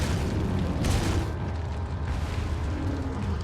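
A grenade detonates in Resident Evil 4, making a deep booming blast with a rumbling tail that fills the short stretch at steady loudness.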